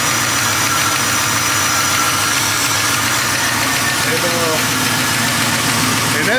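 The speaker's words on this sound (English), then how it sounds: "you start kind of hear like a little tapping noise" A 1973 Impala's small-block Chevy 406 V8 idles close by with a steady mechanical drone and a light rhythmic rocker arm tapping running through it, continuous and fairly loud, with someone talking over it.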